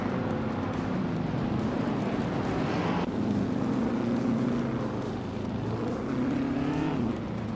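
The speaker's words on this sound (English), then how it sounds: "Rex and Serrar is driving a 1960 Scarab Indy, currently in 9th place." The 1960 Scarab Indy race car in a racing video game gives a steady, loud engine drone that holds throughout with slight pitch shifts as it races, with no voices.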